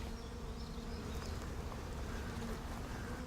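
Honeybees buzzing around educational beehives in Paris, a steady, close insect drone holding throughout the short stretch with a low hum underneath and no voices.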